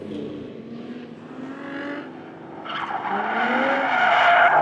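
A V8-powered car, likely an LS swap, drifts with a loud engine roar and rising tire squeal, building in intensity toward the end as the screech sharpens; no talking.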